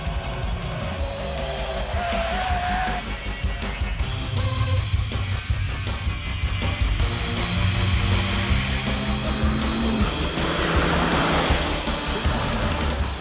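Peugeot 208 GTi race cars running at speed on a circuit during a driver selection event, a continuous loud engine drone with shifting pitch sweeps as cars pass, no talk.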